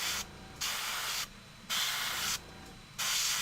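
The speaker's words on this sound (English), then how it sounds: "God, Nick, why did you tell me to use my detail airbrush to spray the bases?" A detail airbrush sprays paint onto miniature bases in loud, steady hissing bursts. There are three or four bursts, each under a second, separated by short gaps, and no one talks.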